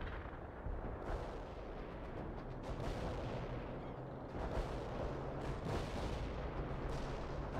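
Artillery barrage in the real-time strategy game World in Conflict: a steady roll of heavy booming blasts and rumbling detonations, dense and continuous, with no voices.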